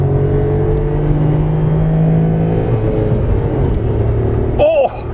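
A 2014 Volkswagen Polo three-cylinder engine pulls under acceleration with a close, droning rumble that rises steadily, then a brief whine and shift just before the end.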